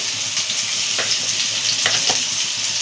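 Soybean chunks frying in hot oil with salt and turmeric, giving a steady bright sizzle with a few soft stirring scrapes, close and alone with no talk.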